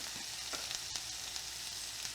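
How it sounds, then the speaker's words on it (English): Food sizzling quietly in a hot pan as turmeric is sprinkled in and stirred around, a soft steady fry with a few light scraping strokes, close but faint and without talking. "So if you can sprinkle some of that and stir that around."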